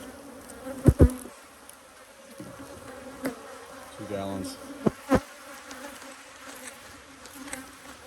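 Honey bees buzz around a hive with a syrup-fed colony, a low droning hum with a few louder buzzing passes close by, while a person speaks briefly.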